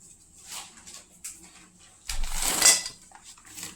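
A utensil stirs and scrapes whole spices around a metal pan for traditional Kolhapuri red chili chutney, soft clinks at first, then a louder stretch of scraping, close by and without speech.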